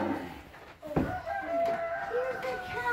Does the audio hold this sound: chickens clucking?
yes